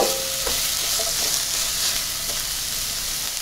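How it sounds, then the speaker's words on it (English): Onions and apple sizzle in hot canola oil, a constant close frying hiss with a few brief clunks and taps early on, no voices. "I'm gonna add the onions and apple."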